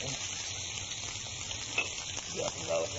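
Shallots and garlic frying in butter in a pan, a soft, steady sizzle running throughout at moderate distance, with a few faint clinks and brief background voices near the end.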